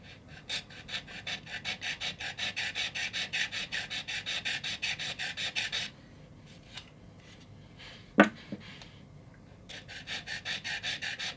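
An aluminum sanding block with self-adhesive sandpaper rasps across metal in quick, even back-and-forth strokes. A pause brings one sharp clack, then the rhythmic scraping resumes.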